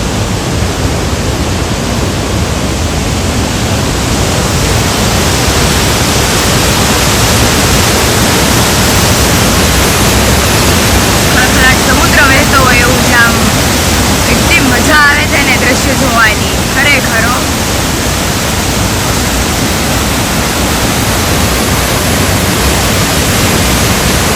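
A waterfall pours with a loud, continuous roar throughout, and faint voices briefly rise above the rushing water midway.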